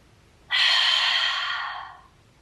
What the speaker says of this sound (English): Inhale through the nose, and then we're going to exhale through the mouth.